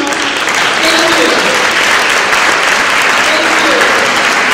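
Steady applause from a banquet audience at a Black History Month awards event greets youth council members coming to the front, dense clapping sustained throughout with faint voices mixed underneath.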